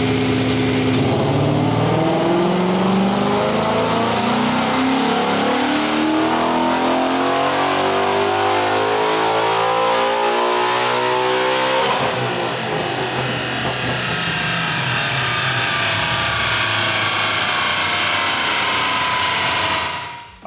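A Ford Aluminator XS V8 crate engine in a 2011 Mustang GT revs hard on a dyno, rising steadily in pitch through a long sustained pull, loud and close, then cutting off at the end.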